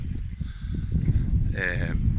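A cow moos once, a short low call rising near the end, on an Irish farm during outdoor calving, heard over muddy outdoor rumble and wind.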